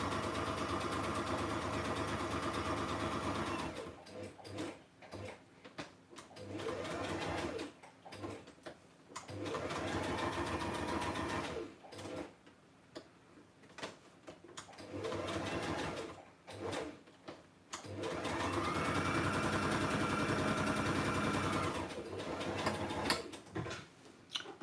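A sewing machine stitches a tag on a handmade journal, its motor running in long steady bursts separated by short pauses, fairly close and alone with no talk.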